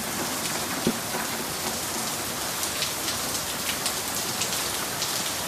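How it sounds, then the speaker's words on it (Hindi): Torrential rain pounds down outside a home during a heavy storm, a loud, constant roar of water on surfaces with scattered nearby drips and no speech. "इतनी की तेज बारिश हो रही है ना"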